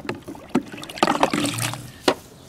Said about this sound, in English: let's take the vacuum hose out.